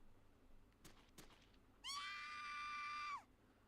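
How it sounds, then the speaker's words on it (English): Woman's high, sustained scream from a visual novel game, Chaos;Head NoaH, about a second long, following two sharp distant cracks, heard faintly against a quiet background. "I heard a dry explosion in the distance, followed by a lady screaming."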